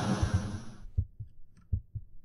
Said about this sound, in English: And what is with that heartbeat as well?